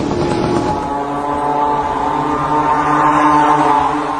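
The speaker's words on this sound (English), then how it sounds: "This is a small moped engine, or scooter engine sourced from China, at a cheap price." A small, cheap China-sourced moped or scooter engine runs steadily and loudly throughout, a continuous buzzing drone with harmonic whine that holds fairly constant, no talking.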